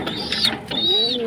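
Pigeons coo softly nearby while pecking at grit, a couple of short, gliding calls over a steady background hum.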